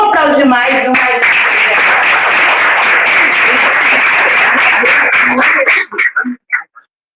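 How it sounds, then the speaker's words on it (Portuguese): A small group claps after a poem is recited at a women's discussion gathering; a voice speaks at the start, then dense applause runs for several seconds before tapering off into a few last claps. "Vamos aplaudir mais um"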